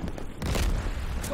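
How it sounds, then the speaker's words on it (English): A dull low boom from a glide bomb exploding in the shooter game Call of Duty: Vanguard, brief and moderately loud, rumbling under faint background battle noise. "Oh good, more fucking glide bombs."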